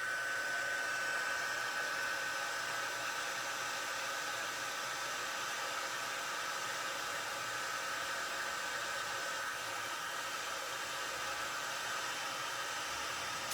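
Heat embossing tool blowing hot air to set clear embossing powder, a steady, loud hair-dryer-like whoosh that runs unbroken for the whole stretch with no talking.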